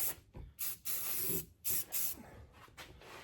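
An aerosol can sprays undercoating beneath a car in short repeated bursts, a sharp hissing that starts and stops several times, close up with faint background noise between.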